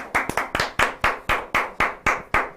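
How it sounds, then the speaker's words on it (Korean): Clapping in a political party broadcast studio: about ten sharp, evenly spaced claps in a quick, steady rhythm, close and distinct, with each clap decaying before the next and no voices over them. "박수로 응원해 주시기 바랍니다"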